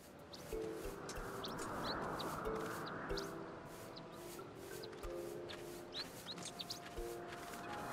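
Small birds chirp in a grassy outdoor area in The Legend of Zelda: Skyward Sword HD, with scattered short high tweets over a steady soft ambient bed and light rustling footsteps.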